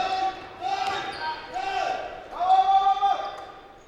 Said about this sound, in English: I can hear the ball bouncing.